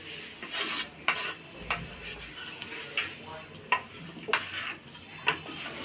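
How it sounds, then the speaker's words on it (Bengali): Meat stirred together with pulao leaves in a pan gives a soft sizzle under rhythmic scraping strokes, about one every half second to second, fairly quiet and close. "মাংস আর পোলাও পাতা সব একসাথে আবার আপু নেড়ে নিচ্ছে"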